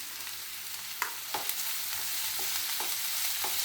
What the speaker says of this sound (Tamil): இது வெங்காயம் வதங்கிட்டே இருக்கட்டும்.